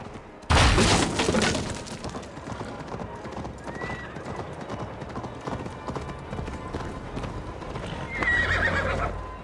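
Hooves clatter in a fast galloping rhythm, loud and close, with a horse whinnying near the start and again toward the end, in the video game Assassin's Creed: Valhalla.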